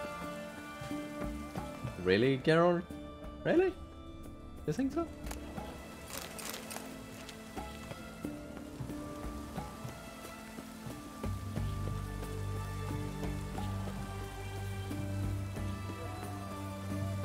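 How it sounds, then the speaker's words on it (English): Rain falls in The Witcher 3: Wild Hunt, a soft steady patter that thickens in the second half, under game music and tonal effects, with a character speaking early on. "Looks like rain."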